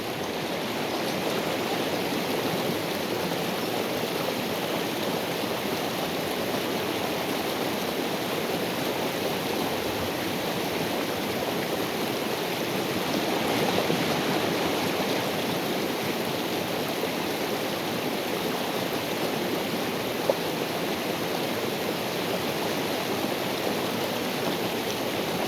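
A mountain stream in the Pecos Wilderness rushes steadily nearby, a continuous broad wash of flowing water that never lets up.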